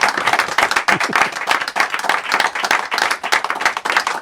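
Applause from a capacity crowd at a live show, a dense burst of clapping that stays loud and steady for a few seconds, with no talk over it.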